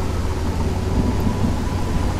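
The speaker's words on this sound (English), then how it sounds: "It's raining a lot." Heavy rain pours steadily in the game Endless Suburbia, with a deep, continuous thunder rumble underneath, dense and close without pause.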